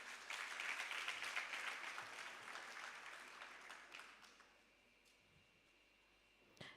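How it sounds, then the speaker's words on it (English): Audience applause at a junior school graduation ceremony, a full burst of clapping that gradually fades to near silence over several seconds, with a brief bump at the end. "Let's give her another round of applause."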